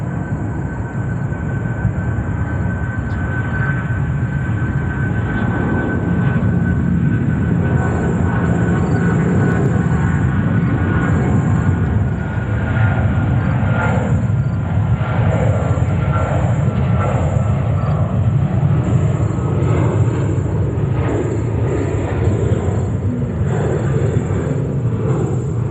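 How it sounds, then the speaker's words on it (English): An American Airlines Boeing 777 bound for London Heathrow roars past at New York JFK, a loud, sustained jet rumble with a rising and falling engine tone across the whole span, no talk over it. "we go over to American 777 on the way to London Heathrow"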